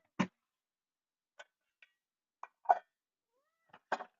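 Several short cat meows and chirps come in separate bursts spread over a few seconds, close and fairly clear against a quiet room.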